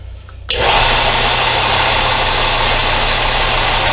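A loud, steady mechanical whir starts abruptly after a brief quiet moment and runs continuously, a close power sander grinding wood for an end grain cutting board without pause.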